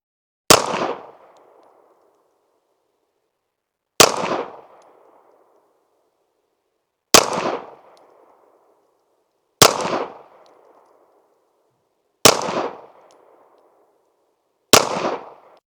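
Six pistol shots from an Archon Type B Gen 2 firing 115 grain CCI Blazer rounds at an outdoor range, each a sharp loud crack with a short decaying echo, spaced about two to four seconds apart.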